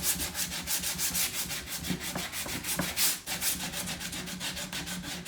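Rapid, rhythmic back-and-forth strokes of 50-grit sandpaper rubbed by hand over wooden furniture to distress it, a steady close scratching with about four strokes per second and no voices.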